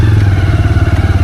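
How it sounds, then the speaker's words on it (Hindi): A motorbike is ridden out along a muddy off-road track toward a mountain temple, its engine throbbing in a close, steady, loud pulse with faint clattering over the whole brief burst. "फिलहाल मैं तो बाइक निकाल देता हूँ।"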